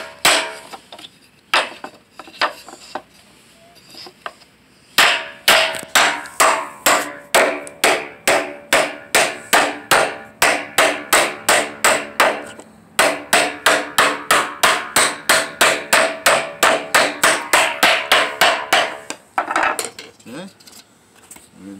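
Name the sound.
hammer tapping wooden pegs on a DIY penny hockey board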